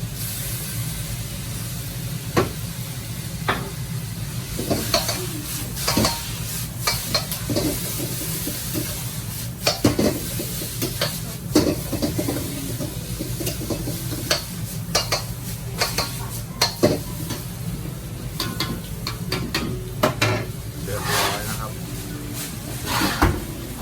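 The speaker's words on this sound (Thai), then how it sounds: "เชฟกำลังใส่ซอสสุกี้ลงไปนะ" A chef stir-frying dry sukiyaki with tofu in a Thai street-food kitchen in Germany, with clattering pans, utensil scrapes and a steady hiss as suki sauce goes in, while a voice talks over the cooking.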